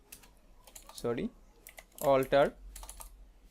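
Keys clatter on a computer keyboard in quick bursts of clicks while someone speaks over the typing.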